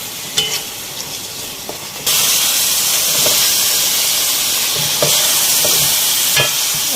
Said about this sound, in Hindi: अब हमें टमाटरों के साथ भी कीमे को बहुत अच्छी से भूनना है ताकि टमाटर हमारे बिल्कुल गल जाएं।